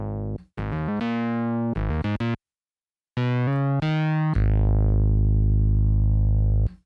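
A Spectralis 2 hybrid synthesizer on an initialized, blank patch plays bright buzzy sequenced notes in short bursts with a gap, ending on a long sustained low tone, no voices.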